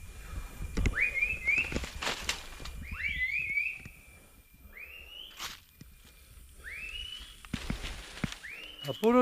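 Several sharp rising whistles, spaced apart, ring out over soft outdoor background and footsteps in the Colombian jungle, signals called to pack mules.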